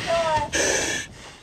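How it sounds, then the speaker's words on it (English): Firefighter wearing breathing equipment at fire school, one brief labored breath, a sharp gasping inhale followed by a hissing exhale through the mask, close and alone. "All you can hear is your equipment and your own labored breathing."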